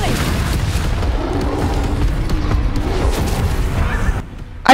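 A Bombarda spell explodes in the Hogwarts Legacy video game, a loud, continuous booming rumble that fills the clip before dropping off sharply near the end into a brief pop.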